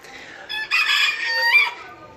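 A Serama rooster crowing once at close range, a bright, strained call rising after a short lead-in and fading out, alone in a quiet setting.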